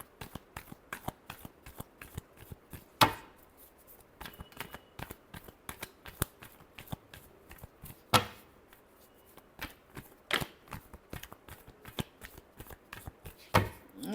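Tarot cards are shuffled by hand in a last shuffle, a quick train of crisp riffling snaps and slaps close up, quiet between bursts, with a few louder cracks standing out and no talk.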